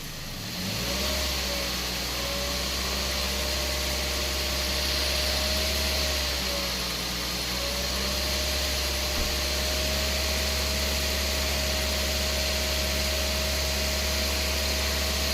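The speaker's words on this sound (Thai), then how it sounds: "เร่งเครื่องครับ" A 2007 Toyota Vios engine runs steadily with a low hum and a rising, sustained rev during an air-conditioning service, alone without any talking, its pitch holding high for a long stretch.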